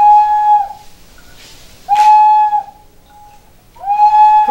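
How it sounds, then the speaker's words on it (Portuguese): A handmade ceramic water whistle, filled with water, gives three clear, pure warbling toots separated by short pauses, each a sustained bright tone with a slight wavering trill, close and fairly loud with no voices. "Esse aqui é conhecido como vaso sonoro, ou apito de água, porque ele funciona com água"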